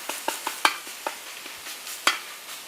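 Sausage stirred and broken up in a frying pan for a breakfast burrito: a series of sharp spatula scrapes and knocks, irregular and close, over a light sizzle.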